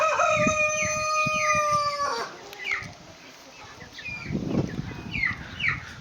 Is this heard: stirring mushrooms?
no